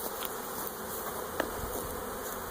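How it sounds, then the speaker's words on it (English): A honey bee swarm buzzes in a dense, continuous drone, close and loud, with individual bees whining past over the steady hum. "These are very friendly bees."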